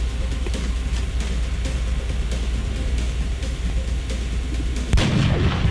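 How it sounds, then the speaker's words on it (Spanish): Weapon fire in the video game XCOM: Enemy Unknown, a steady rumbling low drone with faint repeated thuds, then a sudden louder blast near the end. "Los disparos de la guardia suelen fallar"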